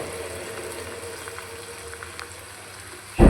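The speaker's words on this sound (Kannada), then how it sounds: "ಒಂದೊಂದೇ ಈ ರೀತಿಯಾಗಿ ಹಾಕ್ಕೊಂಡು ಫ್ರೈ ಮಾಡ್ಕೋಬೇಕು ಚೆನ್ನಾಗಿ." Cabbage gobi manchurian balls are dropped one at a time into hot oil for deep frying, giving a steady bubbling hiss with faint crackles, then a louder surge of sizzling at the very end.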